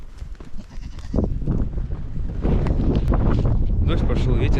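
Cold, rainy gusty wind on a rocky mountain path buffets the microphone with a rumbling roar that strengthens midway and stays loud, with faint voices and footsteps mixed in.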